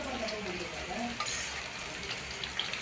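Garlic fries in hot oil in a pan while being stirred, with a steady sizzle and occasional scraping clinks close by.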